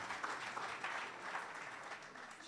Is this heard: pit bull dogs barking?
no